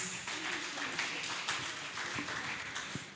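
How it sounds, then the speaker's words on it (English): A conference audience gives a round of applause for a panel of speakers, a steady wash of many hands clapping at moderate volume throughout, with faint voices mixed in underneath. "With a beautiful round of applause for them,"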